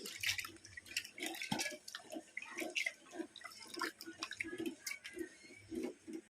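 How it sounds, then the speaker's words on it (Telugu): Toor dal is rinsed in water by hand, giving repeated close sloshing, swishing and dripping sounds in an uneven rhythm, quiet and without voices. "ఇది కందిపప్పు శుభ్రంగా కడుక్కోవాలి ఒక రెండుసారి మంచిగా కడుక్కొని ఇది నీళ్ళు వారబోసుకోవాలి"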